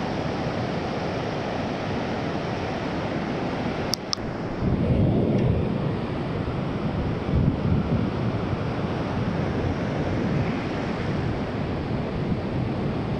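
Waves roll and crash steadily at Klating Beach while someone casts for fish in big surf, a broad continuous wash with wind buffeting the microphone and a brief knock near the start.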